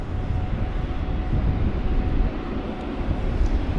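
Steady, broad jet-engine rumble from a Korean Air airliner in special livery taxiing at London Heathrow on a windy day, continuous and fairly close, with no voices over it.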